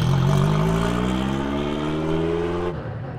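Alpine A110 Pikes Peak sports car pulling away in road mode, its engine note climbing steadily through the revs for nearly three seconds before a sudden drop as the throttle lifts, loud and close.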